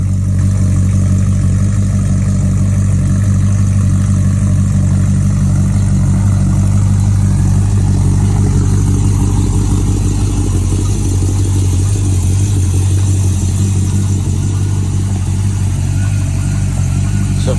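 A 302 V8 car engine idles steadily right after starting, a continuous close, loud low rumble with no breaks and no talking.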